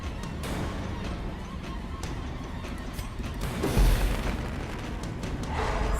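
A deep, muffled fireworks boom goes off once mid-way in the Darkest Dungeon game, over a low continuous rumble and crackle.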